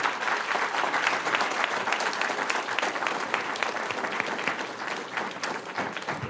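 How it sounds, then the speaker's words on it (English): At a candidate forum in Nampa, Idaho, a room of people applauds the District 12 candidates with a sustained, dense wash of clapping lasting about six seconds, no talk over it. "Let's give all of the candidates from District 12 a round of applause."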